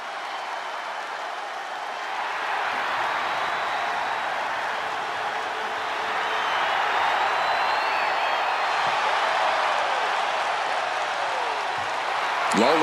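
An arena crowd in the WWE 2K25 wrestling video game roars and cheers steadily as a broad, sustained wash of noise that swells slightly midway, with some faint whistles over it.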